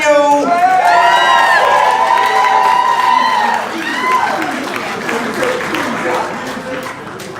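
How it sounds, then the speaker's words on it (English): Wedding guests applaud and cheer loudly at a reception, dense close clapping mixed with whoops and shouting voices and a rising whistle-like cry, the noise easing slightly as the crowd settles. "Please give them a huge round of applause"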